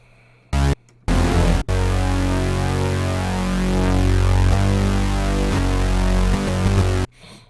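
A Dune 2 software synthesizer plays a buzzing tone that stops and starts, then holds a long note with a deep sine sub-oscillator bass underneath, ending abruptly.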